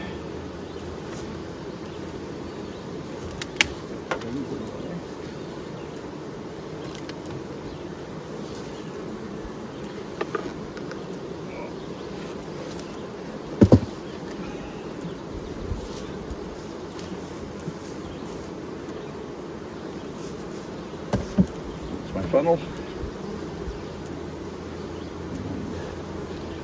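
Honey bees hum in a steady, dense buzz around an open hive in the heat, with occasional clicks and knocks of equipment and one brief spoken remark.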